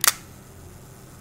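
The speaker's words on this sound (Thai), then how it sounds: "FM2 นี่นะฮะเราเปิดชัตเตอร์1วินาที" A Nikon FM2 film camera fires its shutter at a one-second setting, giving a single sharp, close mechanical click followed by quiet room tone.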